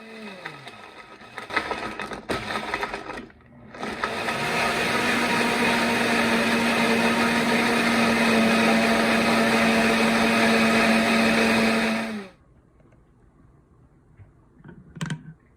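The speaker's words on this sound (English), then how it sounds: "I'll use the smoothie preset to blend up my drink." A Breville 3X Bluicer blender roars at steady high speed for several seconds on its smoothie preset, crushing ice with spinach, then cuts off abruptly, leaving quiet room noise with a faint clink.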